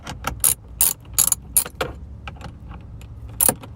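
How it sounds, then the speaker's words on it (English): A cheap ratcheting wrench clicks in uneven bursts of sharp metallic ratcheting, close and loud, with short pauses between strokes. "we're going to use this world's crappiest ratcheting wrench here"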